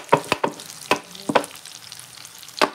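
Sweet potato fries crackle and pop in hot cooking oil, with several sharp, spaced bursts of spattering over a soft, steady sizzle, close by and with no talk.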